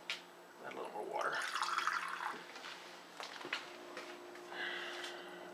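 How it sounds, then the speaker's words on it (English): Tap water pours over raw chicken breasts in a kitchen, a soft running splash that swells and fades over a few seconds, close and fairly quiet. "add a little more water."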